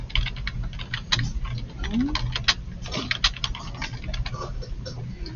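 Fingers tap irregularly on a computer keyboard, close and moderately loud, entering a slide title in a steady patter with brief pauses.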